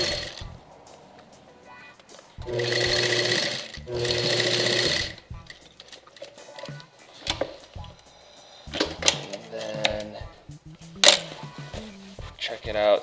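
A sewing machine stitches the panels of a five-panel camp hat in two sustained bursts, followed by shorter starts and stops, with light handling noise between runs.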